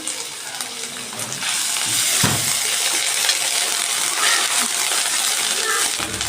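Dried chillies, cumin seeds and crushed garlic and ginger sizzling in hot oil, a steady, close hiss that swells after a moment, with a brief clatter as ingredients go into the pan.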